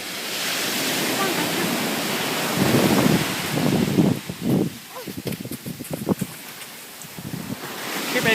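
Surf on a Pacific Ocean beach washes in a steady broadband roar, swelling louder in the middle, with wind buffeting the microphone and people talking nearby over it.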